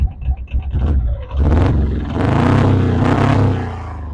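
A Polaris Diesel 455 UTV engine revs up close, starting with choppy idling bursts and then swelling into a loud, sustained rumbling roar.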